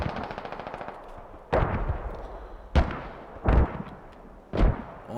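A powerful 30mm cannon fires in the tactical shooter game Squad: four separate booming bursts of rapid shots, each with a sharp onset and a rumbling tail, spaced a second or so apart with quieter background between them.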